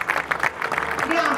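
Thousands of farmers at an outdoor rally in Rovigo break into applause, a brief dense patter of many hands clapping, with a voice over it toward the end.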